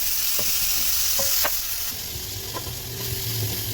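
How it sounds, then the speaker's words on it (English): Onions and garlic frying in sunflower oil in a pan, a loud continuous sizzle with occasional spoon scrapes and knocks from stirring, close by. "This is sunflower oil, and we add it to the onions and garlic."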